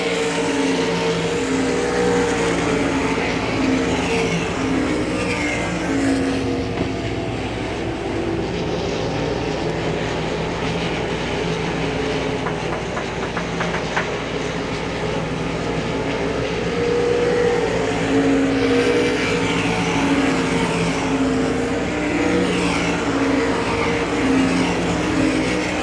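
Race cars roar around Hagerstown Speedway in a heat race, their engines forming a loud, continuous drone that swells and fades as the pack circles the track, with no talk over it.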